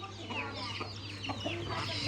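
Native country chickens in a village cluck in scattered short calls, fairly close, over a steady low hum.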